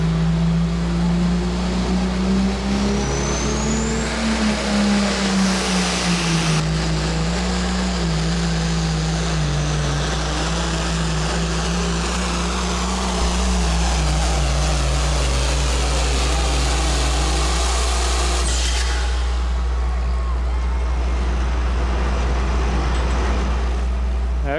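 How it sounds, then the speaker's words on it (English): John Deere 4255 farm tractor in the Hot Farm Tractor class at a county fair tractor pull, its engine droning loud and steady with a slowly wavering pitch throughout, heavy and continuous, with no talk. "as we get ready to go back tractor pulling with the Hot Farm Tractor class"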